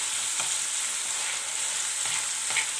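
Tomatoes frying in a pan, a steady close hiss and sizzle of cooking with a few faint stirring clicks, no talking.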